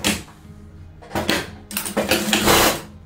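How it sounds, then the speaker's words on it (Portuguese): A sewing machine stitches over a folded fabric edge on a double-sided placemat made from scraps, running in short loud rattling bursts separated by brief pauses. "E venho costurando em cima dessa costura aqui"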